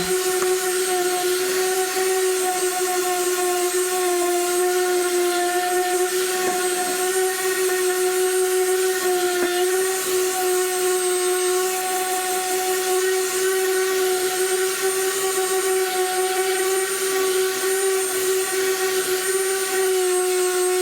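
DeWalt random orbital sander running on varnished wood, a steady high whine with a constant hum, close and unbroken for the whole stretch.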